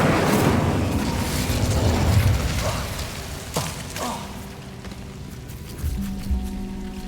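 Incendio fire spell cast in Hogwarts Legacy, a loud whooshing roar of flame with booming bursts that fades into a few fainter crackles and thuds.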